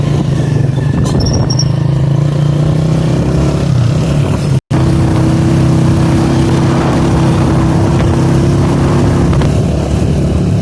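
A motorcycle rides past on a road in Azad Kashmir with a steady, loud engine drone over road noise, briefly interrupted by a cut in the middle.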